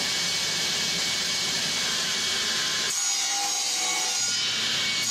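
Power tool machining grooves and dados into MDF bookshelf panels, a loud continuous broadband cutting roar that drops off partway through, leaving a fainter whine and hiss.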